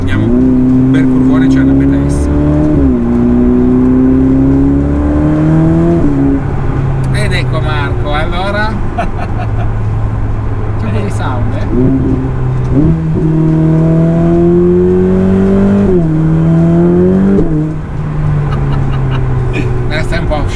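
A Ferrari 488 Pista's engine revs up and falls back through several gear changes on a winding road, loud and heard from inside the cabin, with people talking over it.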